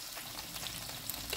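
Canned sardines sauté in a pan with a continuous, close frying hiss, broken by a few faint crackles and light scrapes.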